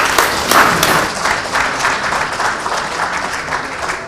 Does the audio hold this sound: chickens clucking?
no